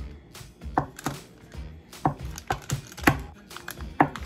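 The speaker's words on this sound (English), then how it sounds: "So now the butter. We're gonna go ahead and cut into like just into cubes." A knife cutting butter into cubes on a board in a small kitchen, a series of soft irregular taps and chops, close and quiet.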